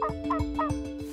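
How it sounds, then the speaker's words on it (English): Wild turkey gobbling from a roost at dawn, a run of about four rapid, throaty gobbling bursts in steady rhythm, fairly close and clear over a constant low hum. "then we're going to hopefully hear some gobbling"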